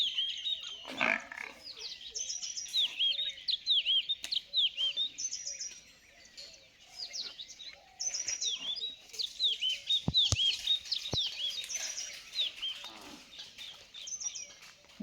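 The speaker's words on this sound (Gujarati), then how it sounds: "જ્યાં પંખીડું બોલે એવું" Birds chirp and call repeatedly on a farm, with short bright tweets in steady overlapping bursts at moderate distance and no talking.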